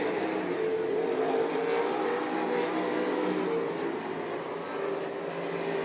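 RaceSaver sprint cars roaring around the oval at Eagle Raceway, a dense continuous engine drone from several cars at once, steady and loud with slight swells as the pack passes, with no talking over it.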